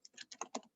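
Quick keystrokes on a computer keyboard, about six close, light clicks tapped in a brief burst, with the last one slightly louder.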